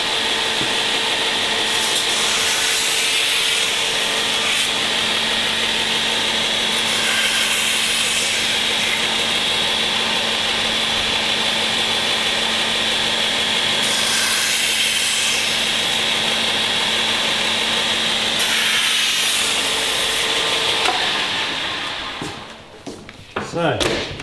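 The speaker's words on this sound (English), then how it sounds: "This is our axe grinding machine." An axe grinding machine grinds the ends of a leather belt with a loud, steady abrasive whine that surges in several passes before stopping near the end.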